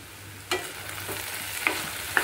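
Vegetable bhaji fries in a pan with a faint, steady sizzle while a utensil stirs it, giving three soft scraping knocks spaced apart, close and quiet.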